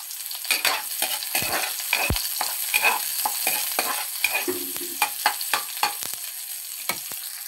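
Garlic and onion sauté in a hot pan (kawali) for pork sinigang, with a steady sizzle broken by sharp scraping stir strokes, close and fairly loud with no talking.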